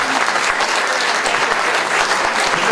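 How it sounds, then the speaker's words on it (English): Audience applause at a League of Women Voters general election candidate forum in Putnam County, steady dense clapping close by, continuing throughout with no speech over it. "You can applaud the candidates."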